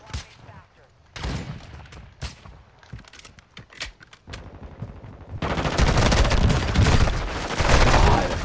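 Video game gunfire from a hip-fired magazine dump: scattered sharp shots at first, then a dense continuous burst of rapid automatic fire, loud and close, with some talk mixed in.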